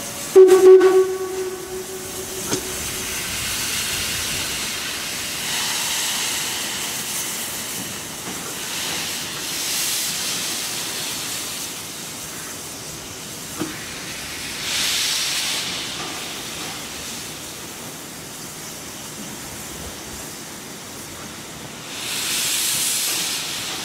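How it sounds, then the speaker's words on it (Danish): Steam locomotives hiss continuously at a railway museum steam event in Denmark, with a loud burst near the start and broad steady venting throughout, swelling in waves at several points. "Mange damplokomotiver fra forskellige klubber deltog."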